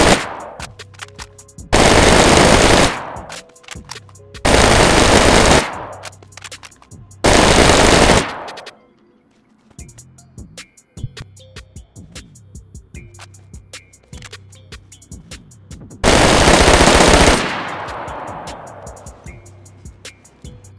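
Three long bursts of automatic M4 rifle fire ring out loud and close in DayZ, each about a second long, then a pause with scattered small impacts, then a fourth burst that ends in a fading tail.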